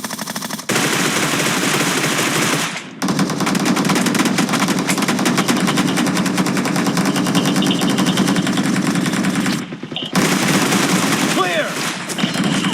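Rapid automatic gunfire in the shooter game PUBG rattles in dense, continuous bursts with brief pauses, loud and close, while players shout over the shooting.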